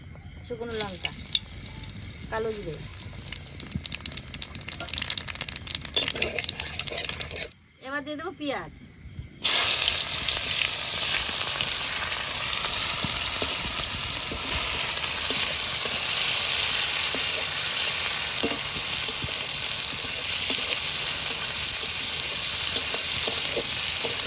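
Dry red chillies and nigella seeds crackle into oil left from frying fish, a loud sizzle that dies down briefly and then surges back, with a person speaking over the early part.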